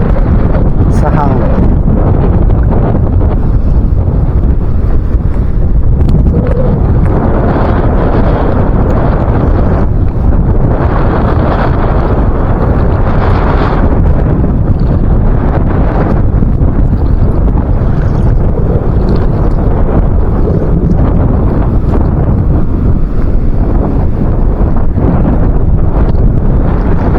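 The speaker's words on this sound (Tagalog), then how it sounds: "Galaw yung tubig dahil sa hangin. Lakas ng hangin eh." Strong wind batters the microphone at sea, a loud continuous roaring rush with gusty swells, broken by occasional voices.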